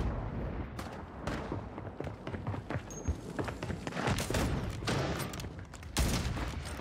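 Rapid sniper rifle shots crack through a chaotic 100-player custom lobby in a shooter video game, with repeated sharp reports and dense overlapping gunfire.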